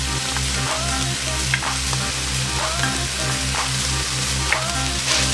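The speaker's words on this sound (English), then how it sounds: "And continue stirring." Sweet and sour crab with chopped fresh coriander sizzles loudly in a hot pan while being stirred, constant frying crackle with rhythmic scraping strokes and a steady low hum beneath.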